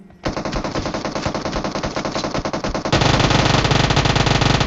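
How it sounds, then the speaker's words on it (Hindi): Automatic gunfire from the mobile video game PUBG Mobile rattles out in rapid, loud bursts that grow denser and heavier partway through, heard alone without speech. "ये वाले बंदे ने फायर कर दिया"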